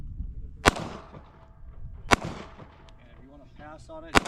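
Pistol shots fired at a steel spinner target on a desert shooting range, three sharp loud reports spaced more than a second apart, with faint ringing and voices murmuring between them.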